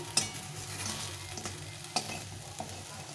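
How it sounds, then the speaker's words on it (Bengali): Fritters of fragrant gandha leaves fry steadily in shallow oil, making a soft, continuous sizzle, with a few sharper pops and spatula taps close by. "এভাবে করে সবগুলো বড়া ভেজে নিতে হবে"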